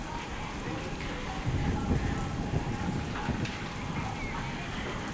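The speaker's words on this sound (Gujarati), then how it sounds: "સામેલા ધાર વરસાદે તમામ નદી નાળા છલકાવી દીધા હતા" Torrential monsoon rain in Vadali taluka, Sabarkantha, roars as a thick, continuous wash with deeper rumbling surges, steady and close.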